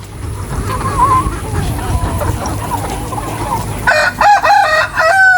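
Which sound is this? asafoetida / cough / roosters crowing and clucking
roosters crowing and clucking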